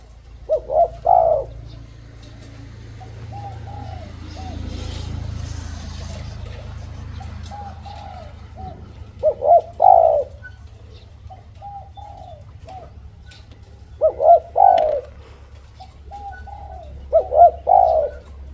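A trained mountain songbird gives repeated short cooing calls in bursts of three or four, close by, with quiet gaps and a low background hum between them.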